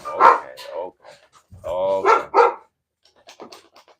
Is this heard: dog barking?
yes